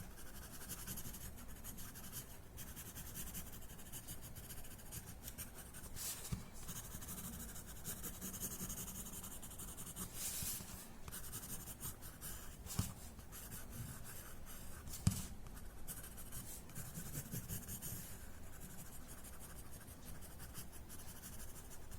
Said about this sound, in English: This section I'm going to shade as a whole, so we'll add graphite at the edges.